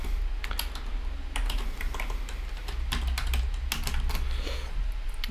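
Fingers type on a computer keyboard in rapid, irregular bursts of crisp clicks over a steady low hum, close and fairly loud, with no talking.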